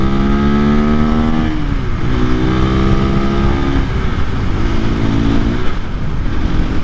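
A 2024 KTM EXC-F 500 Six Days dual sport motorcycle engine runs loud and close, with steady revving that rises and falls in pitch through repeated throttle blips and gear changes.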